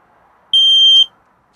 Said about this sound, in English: This is your smoke alarm.